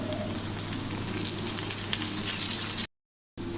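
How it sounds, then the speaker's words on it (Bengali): Onion, garlic and dried chilies frying in mustard oil, a loud, dense sizzle running steadily before cutting off briefly near the end and resuming. "এখন আমি দিয়ে দিচ্ছি সরিষা তেল, শুকনো মরিচ, পেঁয়াজ, রসুন ভেজে দিচ্ছি।"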